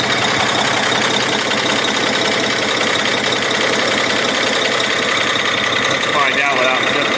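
A Cummins ISX diesel engine runs at a steady idle on fuel fed from a bottle during injector cleaning, producing a continuous, loud, even rumble with a knocking texture that doesn't let up.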